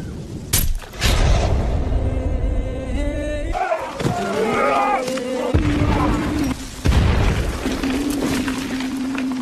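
Grenade explosions burst during a battle between Mehebu tribal fighters and Japanese soldiers: several heavy booms and thuds strike at intervals, with rumbling and debris noise filling the gaps between blasts.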